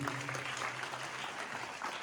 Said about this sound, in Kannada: ಜೋರಾದ ಚಪ್ಪಾಳೆಗಳ ಬರಲಿ